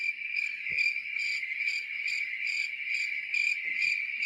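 Crickets chirp in a steady, close, continuous trill with regular pulsing, and a couple of faint low knocks in the background.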